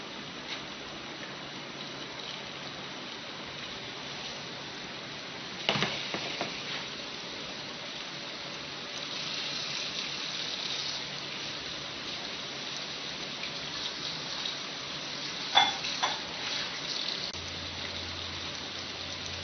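Steak meat for a cheesesteak fries in a pan at home with a steady, even sizzling hiss, broken by a few soft scrapes and knocks as it is stirred around.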